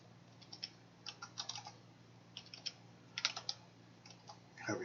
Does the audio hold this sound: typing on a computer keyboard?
yes